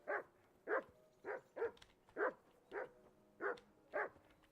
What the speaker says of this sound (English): Call off that damn dog before he wolfs down the last of our Come meat.